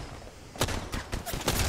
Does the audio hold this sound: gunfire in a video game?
yes